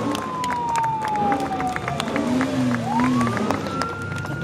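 A crowd at a movie star car parade in Europe claps and cheers steadily throughout, while a wavering siren-like tone glides above the applause.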